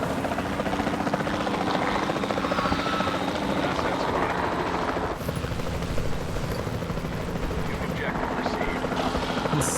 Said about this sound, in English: And scare them back in with the chopper.